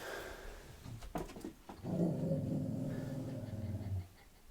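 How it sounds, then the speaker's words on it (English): An animal close by lets out a soft, low, non-menacing growl that rumbles for a couple of seconds after a few brief rustles and then fades out. "Have you ever heard such a non-menacing growl in your life?"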